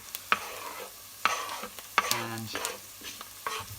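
Onions fry in a pan with a steady sizzle, broken by several sharp scrapes and clanks of a utensil stirring them, close and fairly quiet.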